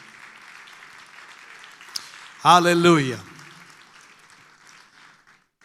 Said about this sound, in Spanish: De ese aplauso de alabanza al Señor.